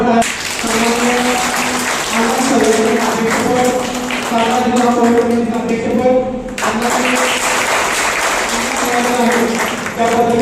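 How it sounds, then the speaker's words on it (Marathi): Audience applause in a hall at a community programme in Satara, a dense, steady wash of clapping held for about ten seconds, with a voice talking over it throughout. "सर्वांनी जोरदार टाळ्या."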